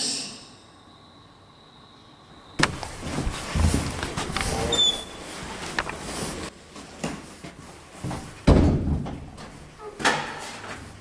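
A staircase door is heard as a sudden slam, then more knocks and thuds from the door and shuffling movement, set against a quiet, hollow indoor space.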